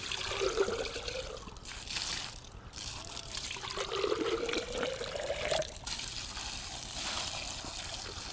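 Water from a garden hose rinsing out a PCM engine fuel control cell filter, a continuous close splashing and trickling stream whose pitch shifts as the flow fills and drains the filter, with brief pauses.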